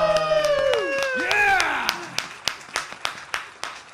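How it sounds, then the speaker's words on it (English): A crowd cheers and whoops, then scattered hand claps ring out, a sparse, uneven burst of applause. "let's get a big round of applause"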